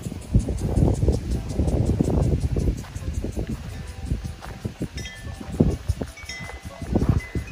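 A wind chime tinkles outdoors at a berry farm, with light repeated clinks over steady wind rustle and microphone buffeting, continuous through the whole stretch.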